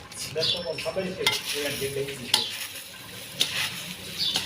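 Sev being mixed in a frying pan, soft scraping and stirring with a light sizzle, a few sharper utensil knocks, close by with no talk.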